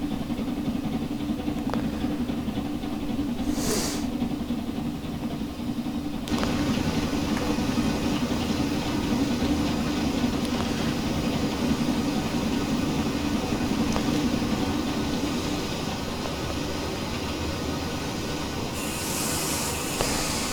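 SR V Schools 4-4-0 steam locomotive running in Train Simulator Classic: a continuous rumble of wheels and machinery with steady steam hiss, loud and even throughout, with a brief whistle-like burst early on.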